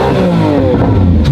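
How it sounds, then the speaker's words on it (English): Lamborghini Aventador S V12 in Corsa mode, its engine roaring loud and close in a dense, harmonically rich rev that holds strong throughout the short burst. "I think we gotta do a couple more revs for the kids."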